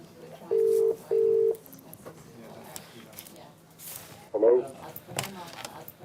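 Two short, steady electronic telephone tones sound on a hospital phone line before a call connects, followed by quieter background voices and room noise.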